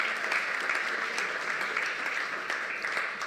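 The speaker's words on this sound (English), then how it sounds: "please clap for her, because that was great" Seminar attendees in Manchester clap for a woman, a sustained round of steady, fairly loud applause filling the room without a break.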